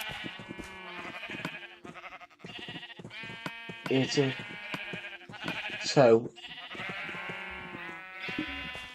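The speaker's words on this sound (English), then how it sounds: "It's a sheep pen, not a cow pen." Sheep in a Minecraft game bleat twice in quick succession, loud wavering calls, with game music and a speaking voice running through the rest.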